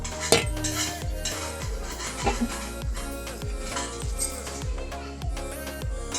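Metal cake tin set on a small bowl inside a heated kadai and covered, with repeated clinks and clatters of metal cookware and utensils, close and moderately loud, plus faint kitchen clutter and no talk.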